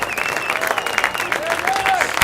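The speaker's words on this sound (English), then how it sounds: "The crowd showing their appreciation." A crowd at a men's college soccer match applauds after a win, steady dense clapping with some cheers and whistles, moderately loud and spread wide across the stands.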